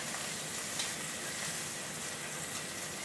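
Stuffed quails browning skin-side in a hot frying pan, giving a steady, close, fairly quiet sizzle and crackle with no talk.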